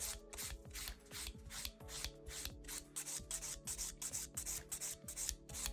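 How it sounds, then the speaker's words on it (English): Rhythmic rasping strokes of a file beveling a long pink French acrylic nail down toward the tip, close and steady, with brief pauses between passes and no talking. "turn the nail around from the client's angle and bevel down towards the tip"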